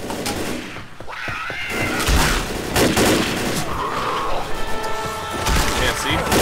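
Gunfire from the Left 4 Dead video game, dense bursts and shots crackling almost continuously over a chaotic mix of game sounds, with a player's voice talking over it.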